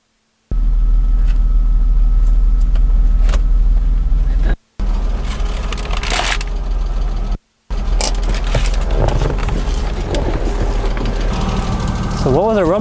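BMW E36 M3 engine running steadily on a first test drive, a loud continuous rumble with brief cutouts and rising revs toward the end, with speech over it.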